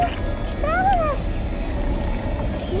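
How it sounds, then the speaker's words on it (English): A cat meows in the video game Genshin Impact, giving one clear rising and falling meow and then the start of another, over a steady bed of in-game ambience and music. "There's a kitty over there."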